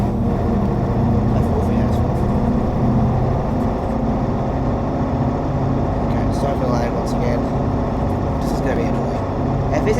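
A Mercedes-Benz O303 bus in the OMSI 2 simulator pulls hard through the gears, its engine giving a steady, loud, low drone for the whole stretch, with a voice talking over it.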